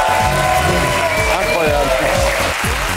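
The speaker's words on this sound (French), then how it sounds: "Alors on applaudit chaleureusement Alice Taglioni" Studio audience applause on a French talk show, with clapping and some cheering running under strong background music and voices across the short stretch.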